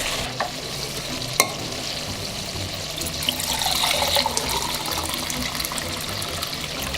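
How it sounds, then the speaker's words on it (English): Water is poured into a pot of Uzbek plov, a lamb and rice pilaf cooked with garlic and peppers, making a steady, close, broadband rushing and gurgling that lasts several seconds with no talking. "And let's put the water in here."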